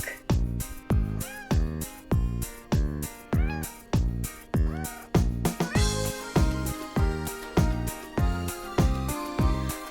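A cat meows repeatedly in a fast, regular series of short, clear calls, close and fairly loud, with no talking.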